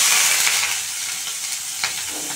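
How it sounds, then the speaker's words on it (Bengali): Green chilies, onion, garlic, ginger, dried red chilies and cinnamon sizzle steadily in oil in a pan while being stirred, a bright continuous hiss with a soft scrape or two, close and loud. "এটাকে ভালো করে একটু নাড়াচাড়া করে নেব।"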